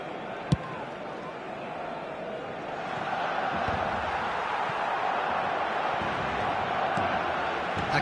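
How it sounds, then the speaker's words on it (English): A stadium crowd in an eFootball video game match keeps up a broad, continuous roar of cheering, with a commentator's voice faintly audible over the din. "Certainly gave this crowd something to really cheer about."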